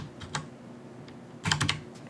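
A few quick computer keyboard keystrokes entering a dollar amount, two soft taps early then a tight cluster of clicks near the end, close and fairly quiet with no talking.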